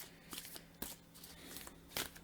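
Spirit Advice oracle cards are shuffled quietly, a few soft riffling bursts and taps scattered over a couple of seconds, faint and close with no speech.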